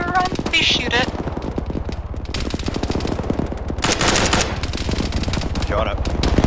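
Sustained machine gun fire from an Arma 3 firefight, loud rapid bursts hammering almost continuously with brief surges, while voices talk over the shooting.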